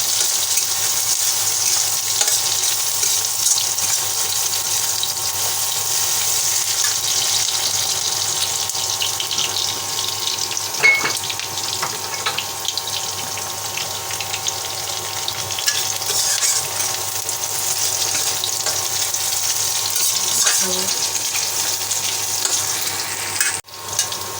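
Spiced crabs, rubbed with ginger-garlic paste, turmeric and chili, frying in hot oil, a loud continuous hiss and crackle close by for a long stretch, with a few faint knocks and no voices.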